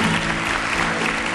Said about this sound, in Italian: Ligea, un applauso.